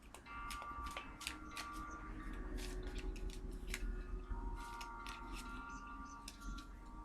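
Crisp, rapid papery clicks and snaps of playing cards being shuffled close by, in quick bursts over a steady low background hum.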